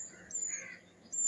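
A crow caws close by under a tree where many egrets roost, giving two or three short, faint harsh calls against a quiet background.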